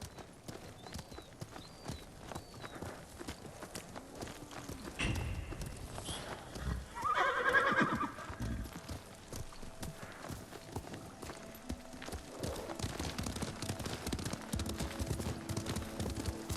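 Horses galloping during a ride in Ghost of Tsushima, a steady drumming of hoofbeats with a louder swell partway through, under faint game ambience and a snort or whinny.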